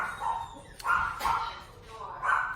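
Dogs barking indoors in a busy household, a few short yapping bursts close by, overlapping a voice.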